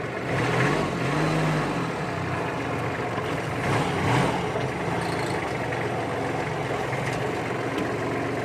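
A used three-cylinder farm tractor engine runs nearby with a steady, low, throbbing chug, swelling briefly as if revved slightly, and no one speaks.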